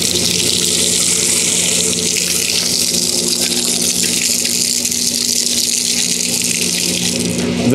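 Desalinated water from a solar-powered seawater reverse osmosis system gushes steadily from an outlet, a loud, continuous splashing flow with a faint mechanical hum beneath it.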